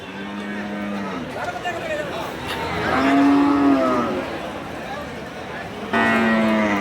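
Cattle at a Bangladeshi livestock haat, where Sahiwal cows are being sold, moo repeatedly with long, loud, drawn-out calls. The calls stand out over steady market crowd noise.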